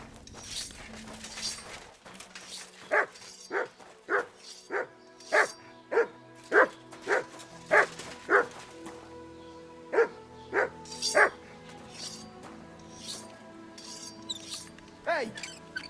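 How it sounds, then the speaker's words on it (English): Dog in Kingdom Come Deliverance 2 barking a run of about a dozen evenly spaced sharp barks, close and loud, with whimpering yips before and after. "You silly doggy."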